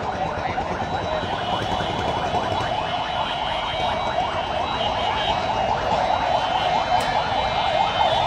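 A police siren yelps in a fast, repeating warble, loud and unbroken for the whole stretch.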